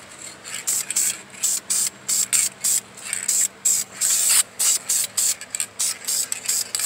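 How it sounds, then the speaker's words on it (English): Repeated short bursts of a spray gun painting an Oldsmobile 400 engine hiss in a steady on-off rhythm, close and loud, each pulse a sharp airy spray. "I'm doing like a tack coat, spraying it from this angle"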